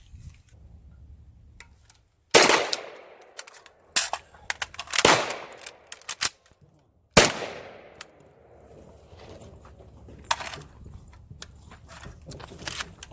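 A Marcolmar CETME L rifle fires a few sharp, loud single shots at uneven intervals. Each crack is followed by a short echo, with quieter handling noise and a little talk in between.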